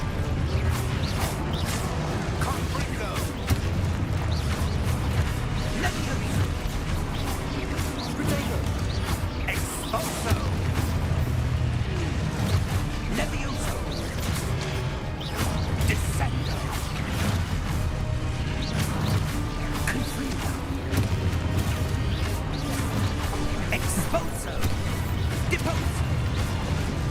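Confringo fire spells burst repeatedly during a Hogwarts Legacy battle, with dense thuds, crashes and whooshes piling up over game music while a voice casts other spells.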